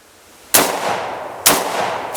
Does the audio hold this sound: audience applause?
no